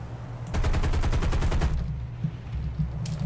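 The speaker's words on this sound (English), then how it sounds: "Looks like we're getting shot at." Rapid automatic gunfire rattles in a dense burst lasting over a second against the steady drone of a B-25 bomber's engines in War Thunder, followed by a few scattered hits and the engine hum continuing.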